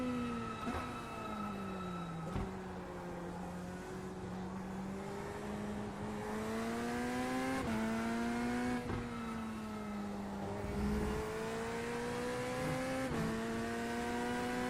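A race car engine in the iRacing video game drones steadily for the whole stretch, pitch climbing and dropping repeatedly as it shifts gears, loud and close with no talking.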